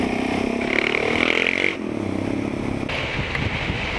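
A Suzuki GSX-R 750 K6 four-cylinder motorcycle engine runs with a steady, fairly close buzzing drone. Its pitch rises under throttle, then drops briefly at a gear change and picks up again, with wind noise throughout.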